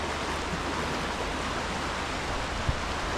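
Waves meet where the North Sea and Baltic Sea join at Skagen, a steady broad wash of surf with no distinct breaks, even and moderately loud with no voices.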